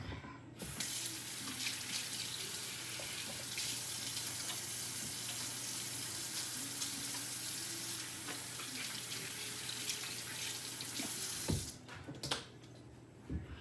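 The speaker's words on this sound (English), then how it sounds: "wash my hands real quick" Water runs steadily from a kitchen faucet into a sink while hands are washed, then shuts off with a couple of clunks near the end.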